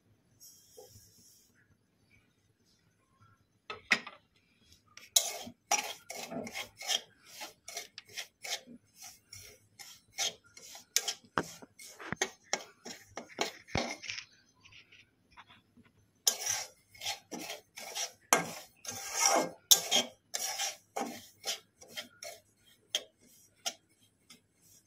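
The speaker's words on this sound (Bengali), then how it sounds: "সুজিটাকে একটু হালকা করে ভেজে নেব" About 200 grams of semolina dry-roasting in a pan, with intermittent dry scraping and rasping strokes of a spatula against the pan, fairly close and quiet, between stretches of near silence.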